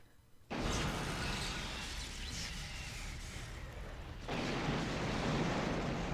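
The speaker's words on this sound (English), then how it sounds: "we blew up the penis cannons" Cannons blowing up in the video game Lunar: Silver Star Story, a sudden loud roaring blast that starts after a brief quiet moment, sustains as a broad rumble and swells again near the end.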